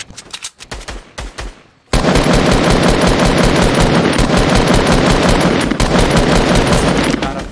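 Rapid automatic gunfire in the video game Fortnite: a few scattered shots, then a loud, dense, unbroken stream of fire that holds for several seconds.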